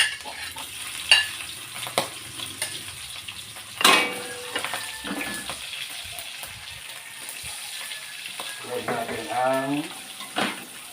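Onions sautéing in a pan for Filipino vegetable lumpia, a low steady sizzle with scattered clinks and scrapes of stirring, a brief sharper burst near the start, and faint running water from a tap in the background.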